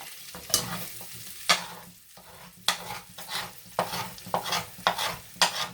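Potatoes frying and browning in a pan, with repeated scraping stirs over a soft, steady sizzle, close and clear.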